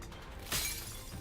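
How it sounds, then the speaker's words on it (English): A glass bottle shatters under a fierce stomp in the video game NIKKE: one sharp, bright crash with a short scatter of shards, standing alone against a quiet background. "With a fierce stomp, she shatters the glass bottle that lay strewn across the ground"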